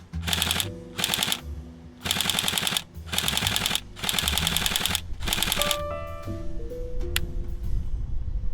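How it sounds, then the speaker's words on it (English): A Tokyo Marui AK-47 Type 3 Next Gen recoil airsoft electric gun fires several rapid full-auto bursts close by, each a buzzing mechanical rattle separated by short pauses, followed by faint clicks and handling noise. "Shooting the AK is a nice little experience."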